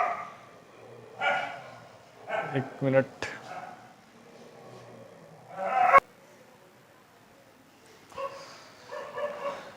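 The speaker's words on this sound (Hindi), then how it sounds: "कुत्तों का तकड़ा आतंक है भाई यहाँ" Dogs bark in short separate bursts, several sharp woofs and yips at moderate distance, with someone briefly speaking between them.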